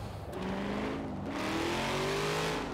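A C8 Corvette Stingray engine in the Forza Horizon 4 racing game revs and climbs in pitch through the gears, a steady, fairly quiet engine drone with no talking over it.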